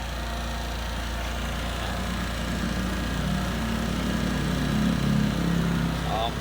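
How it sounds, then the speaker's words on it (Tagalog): A Honda Click 125 scooter engine runs at a steady idle, a continuous low hum with a faint higher buzz that holds at an even level throughout. "lobot lang yung battery, umaandar na yung motor"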